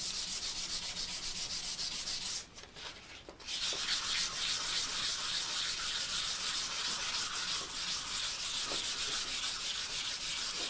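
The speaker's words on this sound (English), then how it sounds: "Now we're only going to sand the areas that need to be sanded." A rusty gun barrel being hand-sanded with 400 grit sandpaper: a steady, close, continuous rasping rub with one brief pause, no talking.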